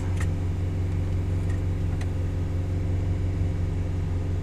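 A 1987 Yugo GV engine running at a high idle just after startup, a steady low rumble with a constant hum, moderately loud and unbroken, with a few faint clicks over it and no voices.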